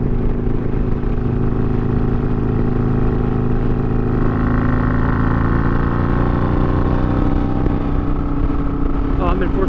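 A Harley-Davidson Sportster fitted with a Two Brothers Racing Comp-S 2-1 exhaust cruises at about 60 mph in a high gear, its loud, steady engine drone shifting slightly in pitch partway through.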